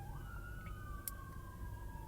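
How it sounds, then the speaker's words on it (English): Emergency vehicle siren wailing outside a parked or moving car, a steady rising and falling tone heard through the cabin over low engine rumble, continuous and fairly distant. "Sorry for those sirens."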